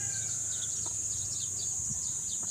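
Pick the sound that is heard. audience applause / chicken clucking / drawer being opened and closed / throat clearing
chicken clucking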